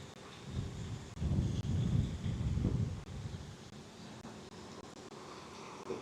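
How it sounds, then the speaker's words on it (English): Gusts of wind rumble and buffet the microphone at a lakeside carp and catfish fishing spot, swelling for a couple of seconds before easing into a steady, softer blow with no talking. "There's the wind."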